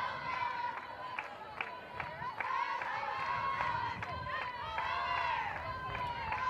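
The Oklahoma State Cowgirls softball team cheers on a teammate at a college game against BYU, with rhythmic claps and chanting voices in a steady, energetic dugout chant.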